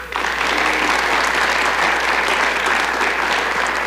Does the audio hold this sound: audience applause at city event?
yes